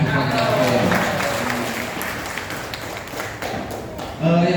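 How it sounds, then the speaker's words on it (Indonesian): Applause from an audience at an Indonesian regional council speech in Mojokerto, a dense wash of clapping that fills the clip and thins slightly toward the end, with a voice speaking over it. "Tepuk tangan"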